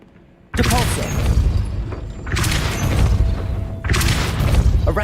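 Spells cast in Hogwarts Legacy, a video game: three loud, dense bursts of magical force, each with a sharp, booming onset and a crackling, rumbling tail, arriving roughly every one and a half seconds.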